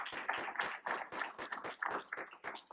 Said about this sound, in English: Can we give them a really big round of applause?